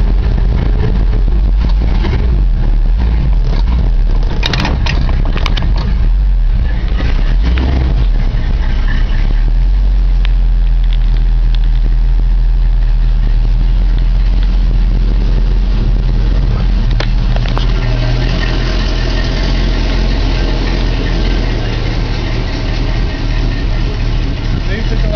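A 1955 Buick Century engine idles and runs steadily, with a deep continuous rumble throughout and a shift in tone partway through. Voices talk over it at times.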